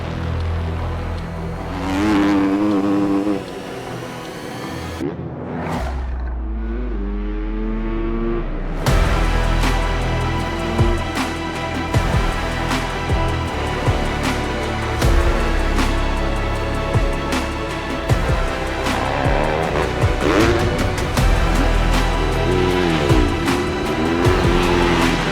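Supermotard motorcycles of 250cc and 450cc lapping a track, engines loud and continuous with revving and passes, a brief lull before the roar resumes.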